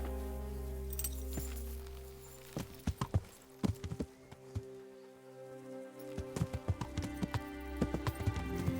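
Horse hooves clip-clop at an irregular walking pace in the medieval video game Kingdom Come: Deliverance, with sustained tonal music playing beneath. The footfalls are moderately close, and a few faint metallic clinks come in among them.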